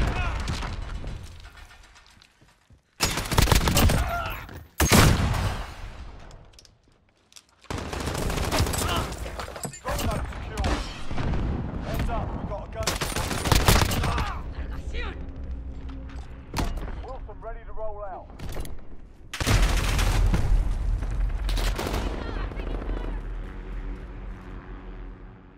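Gunfire and explosive blasts in the Call of Duty: Modern Warfare video game, heavy bursts arriving in irregular loud clusters separated by quieter stretches, with radio-style voices talking between them.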